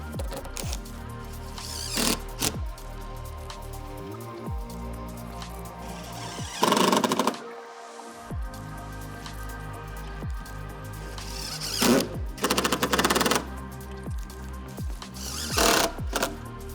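A power driver sets screws while assembling Vanimal L-racking inside a van, in several separate bursts of whirring with short pauses between them, fairly close and steady in level with no talking.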